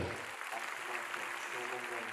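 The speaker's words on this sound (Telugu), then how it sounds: "మీరు చప్పట్లు కొట్టారు" An audience at a church gathering claps together in a sustained, dense burst of applause that fills the hall at moderate volume.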